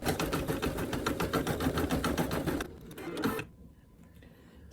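An embroidery machine stitches a zigzag line on an in-the-hoop appliqué needle minder, giving a fast, steady, loud mechanical needle rhythm that stops near the end before a brief whir and quiet hum.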